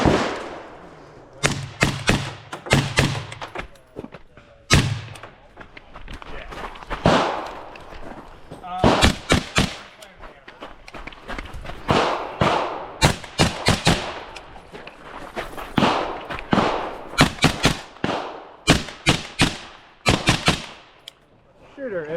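Rapid strings of sharp gunshots and steel-target pings ring out on a two-gun practical shooting stage with cardboard and steel targets, coming in fast bursts and pairs with short pauses, loud and fairly close, with background noise between strings.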